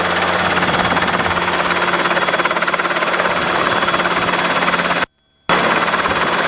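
A Robinson R22 helicopter on a training flight, heard from inside the cabin as a loud, constant, rapid rotor and engine chop that briefly cuts out near the end.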